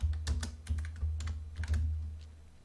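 Keystrokes on a computer keyboard while entering figures into an Excel pay slip, a quick irregular patter of close, crisp taps over a low background hum.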